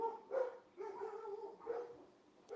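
Distant dogs bark in a few muffled, spaced bursts, faint and heard alone.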